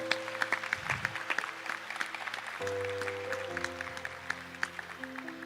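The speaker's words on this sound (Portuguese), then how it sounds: "Pode aplaudir a palavra." A church congregation applauds with a dense patter of clapping, moderately loud and steady, under sustained organ or keyboard chords that shift partway through.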